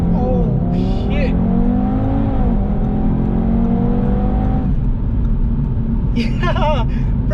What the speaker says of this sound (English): The car rips out of there.